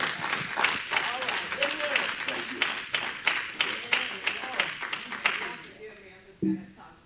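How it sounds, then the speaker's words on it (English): A church congregation clapping hands at a Wednesday night Bible study, rhythmic group claps in a steady beat under voices and shouts, tapering off near the end. "Clap your hands for the Lord."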